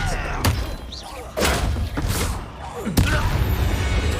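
A Flipendo spell strikes in the Hogwarts Legacy video game, landing as several sharp, booming thuds spread across the moment over a dense bed of game effects and noise.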